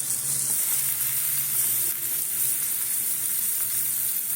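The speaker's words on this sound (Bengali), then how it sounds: "আবারও একটু বাটার দিচ্ছি তো একটু পুরোটাই বাটারে হয় বাটার দিলাম এইবারে পেঁয়াজটা দেবো" Onion sizzles in butter in a pan while making potato tikki, a steady, close, bright crackling hiss that holds evenly throughout with no talking.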